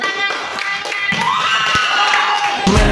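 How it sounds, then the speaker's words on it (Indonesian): A school class of children clapping and cheering together, a loud continuous wash of hands and excited shouting that swells near the end. "tepuk tangan semuanya"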